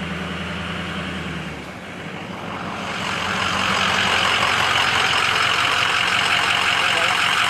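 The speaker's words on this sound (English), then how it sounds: "Here comes another truck." A truck approaches and passes on a road at dusk, its engine rumble swelling from quiet to a loud, steady broadband roar that holds through the end, with no one speaking.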